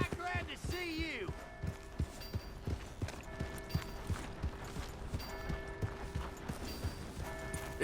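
Horse hooves clip-clop in a steady trotting rhythm in Red Dead Redemption 2, close and clear, with a voice at the start and faint musical tones underneath.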